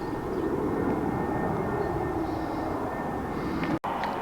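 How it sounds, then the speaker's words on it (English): An EasyJet airliner flies overhead toward the airport, its broad roaring engine rumble loud and steady throughout at an outdoor spot, with a brief click near the end. "there's a great big aeroplane going off to the airport. EasyJet"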